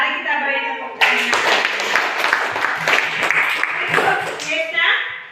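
A classroom of children bursts into loud, dense applause that starts abruptly and continues steadily for several seconds, with some young voices mixed in under the clapping.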